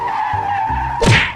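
A car with failed brakes skids loudly against a steady tonal hum, its tires scraping before a heavy thump as it goes over into a ditch.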